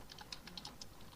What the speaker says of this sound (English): clickety clack. I hear Jason typing